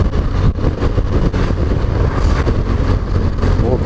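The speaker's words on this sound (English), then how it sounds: "More bikes out this morning, which is nice." A group of motorcycles sets off together on a morning rideout, a steady, loud and dense engine rumble that fills the whole moment without a break, heard up close with no speech over it.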